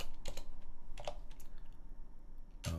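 Computer keyboard being typed on, a handful of quick clicky keystroke bursts spaced irregularly, close and fairly quiet over a faint background hiss.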